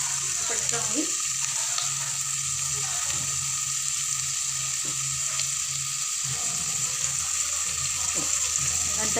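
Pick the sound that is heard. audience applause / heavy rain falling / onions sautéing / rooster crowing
onions sautéing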